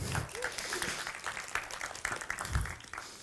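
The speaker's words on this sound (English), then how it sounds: "So applause for guys for all the support for other speakers" Conference audience applause: quiet, scattered clapping at a distance, with some talk mixed in.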